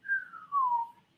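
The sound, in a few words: person whistling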